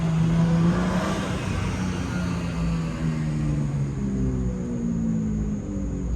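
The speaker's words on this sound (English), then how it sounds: "I get to be grateful that I heard that engine" A car engine revs as the vehicle passes, a steady loud drone with wavering tones that holds through the whole stretch and fades slightly toward the end, with no talk over it.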